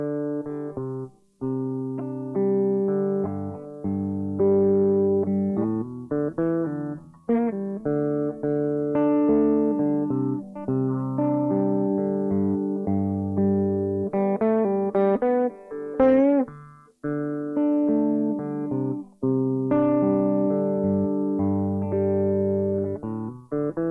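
Electric guitar plays a song's intro riffs, a bright, ringing picked riff cycling through repeated phrases, close and steady with short gaps between passes.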